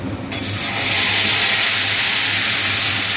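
Tomato paste sizzling and hissing as it is sautéed in a hot pan for a Bengali dish, a loud, steady broadband frying sound that flares up after a brief quieter start and holds evenly throughout.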